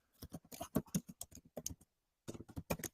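Rapid computer keyboard typing, close and fairly quiet, comes in dense bursts of keystrokes with a short pause before a final flurry.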